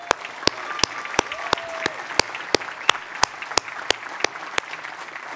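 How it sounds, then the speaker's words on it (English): Applause for chamber of commerce staff at a 75th-anniversary annual membership gathering; a sparse run of sharp, evenly spaced claps stands out clearly over a quiet room. "Let's give them a round of applause."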